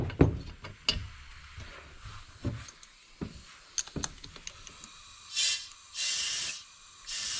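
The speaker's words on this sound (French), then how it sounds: "on va commencer par mettre de l'air dedans" Compressed air hisses into a motorcycle exhaust pipe during a dent-removal restoration. A few scattered knocks and clicks come first, then three loud, steady bursts of close hissing near the end.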